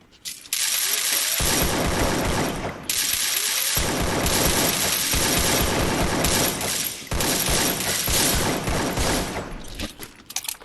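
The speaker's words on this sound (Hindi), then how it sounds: "अब एक बंदा था पेड़ के पीछे, उसे भी मारने की कोशिश करता मैं कार से, लेकिन नहीं मरता, तो उसे मैं गन से मार देता हूँ।" Rapid automatic gunfire rattles out in long, loud, dense bursts during a driving and shooting video game, with brief gaps between volleys and mechanical clatter mixed in.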